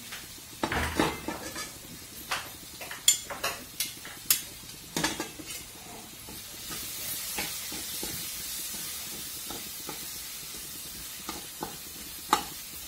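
Green chilies stir-frying in oil, a faint sizzle beneath sharp clinks and scrapes of a utensil against the pan, irregular close taps spread throughout, no speech.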